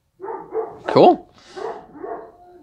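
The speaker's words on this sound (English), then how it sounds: "Yeah, that's that's my dog outside, by the way." A dog barks outdoors, heard a few times at moderate distance, one sharper bark standing out, while a person speaks over it.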